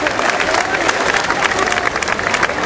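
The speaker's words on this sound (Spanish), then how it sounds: "Un aplauso para las jóvenes que asistieron" Crowd applause at a patriotic ceremony where the homeland fire is lit in its cauldron in Coalcomán, a dense, steady clapping wash with scattered cheers throughout.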